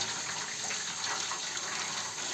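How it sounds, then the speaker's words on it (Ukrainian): Steady rushing of hot water being poured into a baking tray, a continuous broadband splash with no pauses, fairly close and moderately quiet. "Знаєте, гарячу воду вливаю."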